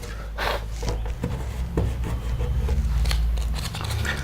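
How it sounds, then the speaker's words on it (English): Sandpaper is rubbed over a Manx dune buggy body to prep it for paint, producing repeated scratchy, rasping strokes in an uneven rhythm, close and fairly loud over a low background hum. "I'm only sanding it right now so paint will stick to it when you paint the underside of the body."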